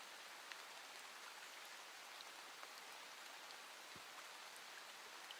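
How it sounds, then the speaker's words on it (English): Rain plays back from a video, a faint, steady, hissing patter with scattered small drop ticks, continuous and even throughout with no talking. "But can you hear the rain right now playing?"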